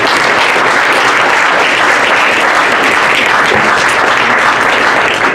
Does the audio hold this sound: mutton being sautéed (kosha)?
no